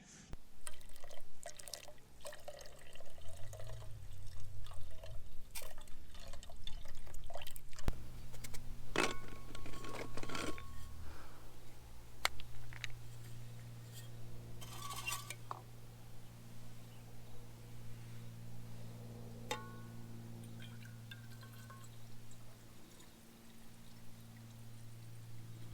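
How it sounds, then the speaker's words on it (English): Camp coffee is poured slowly off grounds settled at the bottom of the pot, giving a soft, quiet trickle with scattered drips and small clinks in a calm outdoor setting. "So when you pour it, you get clean coffee."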